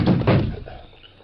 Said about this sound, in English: Let me close this door.